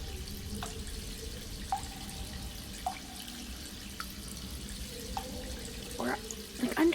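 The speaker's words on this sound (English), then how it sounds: "you guys start to hear the sound of water. Like rushing water, and you guys hear the sound of more water dripping." Water trickles and rushes steadily in an underground cave, with distinct drips falling every second or so and a slightly louder splash near the end, quiet and alone without talk.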